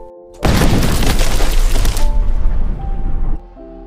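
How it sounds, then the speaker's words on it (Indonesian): A sudden loud landmine explosion bursts out and rumbles with debris for about three seconds, then cuts off to quiet music. "ledakan ranjau membuat Korpi terpental dan kudanya mati dengan tubuh hancur berantakan"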